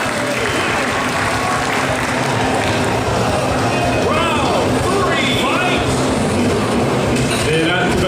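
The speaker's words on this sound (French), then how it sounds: "on les applaudit bien fort" A crowd at a Street Fighter-style fighting game tournament applauds and cheers loudly over an energetic commentator, with dense clapping and shouts continuing throughout.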